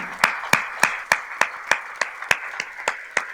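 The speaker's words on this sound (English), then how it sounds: "I invite you all to stand and join hands in applause as Mr. Edward Mackey makes his way to collec" Audience applause at an awards ceremony, heard as sparse, evenly spaced individual claps from a modest crowd, each crisp and distinct, with no talking over them.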